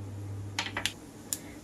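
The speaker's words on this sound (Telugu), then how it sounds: "తాలింపు గింజలంతా చిటపటమనేటప్పుడే కొంచెం ఇంగువ కూడా" Tempering seeds splutter in hot oil in a pan, a few sharp, quick pops over a low steady hum in a short, quiet stretch.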